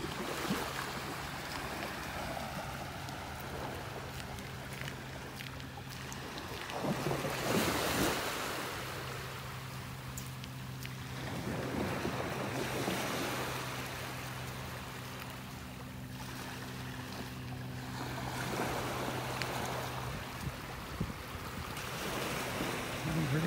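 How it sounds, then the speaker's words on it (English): Waves roll onto a beach in North Naples, Florida, with wind buffeting the microphone. Each surge of surf rises and falls every few seconds over a steady low rumble. "I'm out here walking on the beach."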